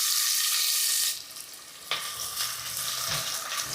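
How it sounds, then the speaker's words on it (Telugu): Chopped onion pieces hitting heated oil in a home kitchen pan, a loud steady hiss at first that drops off, then a fresh burst of sizzling with light stirring scrapes continuing underneath. "ఆయిల్ కొద్దిగా వేడైన తర్వాత మనం కట్ చేసి పెట్టుకున్న ఉల్లిపాయ ముక్కలను వేసుకుందాం"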